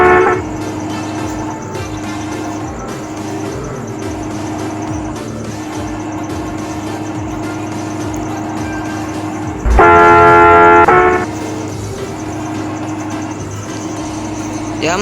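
A Hino 500 truck sound mod in a driving game, its steady engine drone running throughout, broken around the middle by a loud, sustained multi-tone horn blast lasting about a second.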